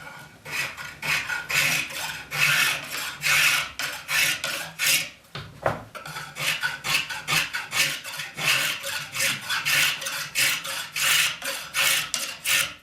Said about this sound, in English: I'll just shape it just with the spoke shave.